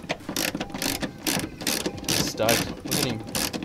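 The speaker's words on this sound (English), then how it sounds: "I'm gonna use a ratchet and a 10mm, pull these out." A ratchet fitted with a 10mm socket backs out tail light screws on a car, giving a run of quick repeated clicking bursts close up, with a brief voice speaking over it.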